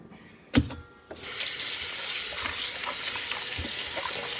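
Tap water runs steadily into a sink to rinse a boneless pork loin, a couple of clunks at the start before the stream settles into a continuous close hiss.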